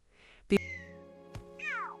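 A kitten meows in a cartoon story, one sharp mew followed by a longer, sliding high cry near the end, with a short bright sound effect in between and no talking.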